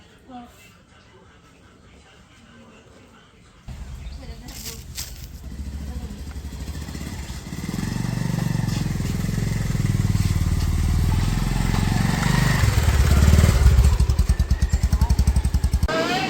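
A motorcycle engine starting up and idling in a village, a low rumbling putter that grows louder and rougher as it revs, close by, with a voice talking over it.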